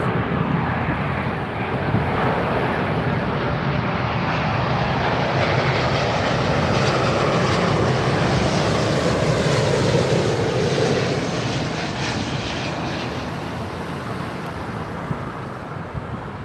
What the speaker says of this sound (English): British Airways One World 777 coming in all the way from Gatwick